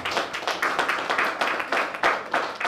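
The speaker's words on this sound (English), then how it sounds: "A round of applause for this man." Applause for the chairman and caretaker of a Nigerian dynasty at a formal gathering, a steady crowd clapping in repeated bursts that swell and fade, fairly close and filling the whole stretch with no talk over it.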